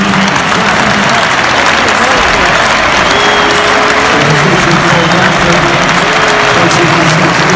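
Loud, dense applause and cheering from a packed football stadium crowd as Manchester United's Matic walks off the pitch in a farewell match, continuous throughout, with a voice audible over the roar.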